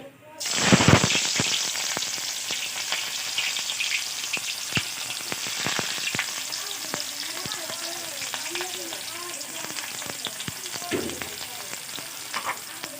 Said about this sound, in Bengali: পেঁয়াজটি আমরা নাড়া দিতে থাকবো যখন মধ্যে পেঁয়াজের কালারটি ব্রাউন কালার না হচ্ছে